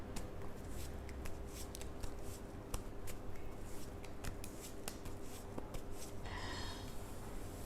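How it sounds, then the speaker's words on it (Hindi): Tarot cards being shuffled by hand, a soft continuous riffling and flicking of card edges with small taps, quiet and close, no talking. "कार्ड्स मैंने शफ़ल कर लिए हैं"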